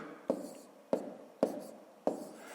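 A pen writes numbers on paper during a 5th-grade math column multiplication, heard as four distinct quick strokes or taps spaced about half a second apart, fairly close and alone with no talk.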